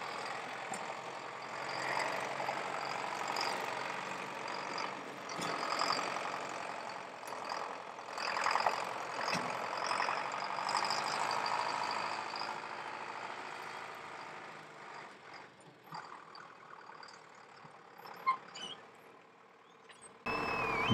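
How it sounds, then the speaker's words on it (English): A steady tractor engine drone from a distance rumbles continuously at low volume as it drives into a field at a red kite feeding farm, with outdoor ambience and occasional faint clatter, then cuts off at the end. "the tractor enters the field with the food for the red kites"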